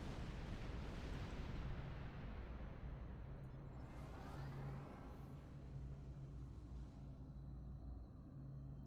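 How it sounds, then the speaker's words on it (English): A Metreon gas pocket exploding in Star Trek Online, a heavy roaring burst that swells and then rumbles down over a steady low engine hum, fairly faint overall. "Let's go ahead and destroy this pocket of Metreon gas that's right in front of us, since we don't really want to run into that while it's exploding."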